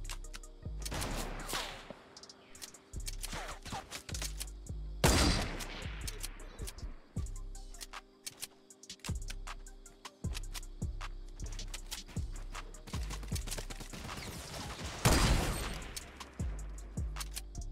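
Tommy gun fire in the Fortnite video game, heard as three loud bursts of rapid automatic shots spaced several seconds apart, each with a sharp attack, over a steady game background.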